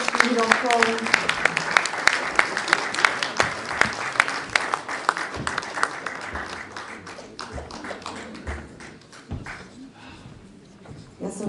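An audience at a discussion forum applauds for an 84-year-old guest, with dense, lively clapping that thins out and fades toward the end, and a voice briefly heard underneath.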